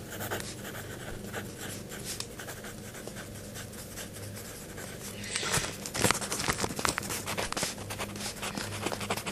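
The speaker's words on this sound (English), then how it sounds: "hearing how it sounded to write with a BIC pencil" Steady scratchy strokes of a BIC mechanical pencil across paper, close up, growing brisker and louder partway through.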